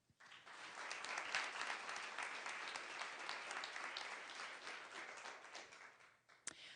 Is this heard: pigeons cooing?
no